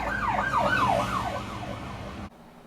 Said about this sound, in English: Got sirens.